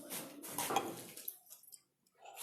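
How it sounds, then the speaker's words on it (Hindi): Water pours into a glass beaker in a classroom in uneven splashing bursts, fairly faint, ending in a short near-silent pause. "और डालिए पानी"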